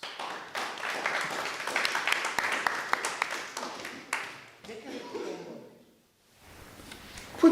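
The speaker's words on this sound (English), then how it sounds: "Let's give Nicola a round of applause." An audience claps for a woman after she starts decorating a candle, a dense patter of hands close by that fades out after several seconds into quiet.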